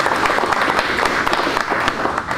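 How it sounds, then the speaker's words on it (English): An audience at a grant award event for a college project gives a round of applause, a steady, dense wash of clapping that continues unbroken and fairly loud. "I think this project deserves another round of applause"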